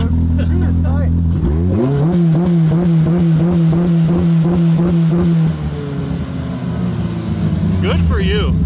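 A Polaris RZR Pro R off-road vehicle's engine revs hard and climbs in pitch, holding a loud, rasping drone for several seconds before easing off, with people talking over it.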